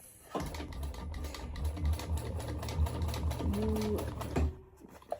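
A sewing machine stitches a fabric bucket bag, running in a steady continuous whir close by for most of the stretch before stopping, with a brief higher motor tone near the end.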